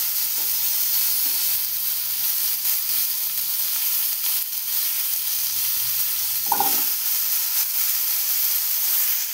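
Pumpkin pieces hit a pan of hot tempering oil and fry with a continuous loud sizzle and hiss, plus a brief stir or clatter partway through, and no voices.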